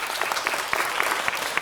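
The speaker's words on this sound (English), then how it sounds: "A round of applause, absolutely." Audience applause in a city council chamber, a steady patter of many hands clapping at moderate level for a short burst, with no voices over it.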